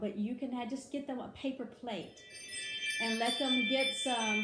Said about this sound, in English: sorry about that doorbell